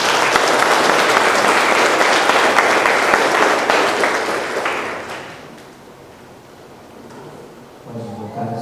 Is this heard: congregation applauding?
yes